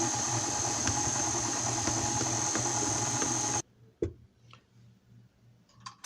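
A stand mixer running on low speed works flour into dough, giving a steady motor hum and rhythmic ticking for several seconds before cutting off abruptly, followed by a few faint knocks and clinks.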